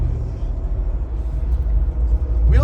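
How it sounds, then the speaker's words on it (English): A 2021 Jeep Wrangler Rubicon 392 rumbles with a low, steady exhaust note while driving, ending in a short burble at the close, heard from inside the vehicle with no talking. "we just had a little burble back there"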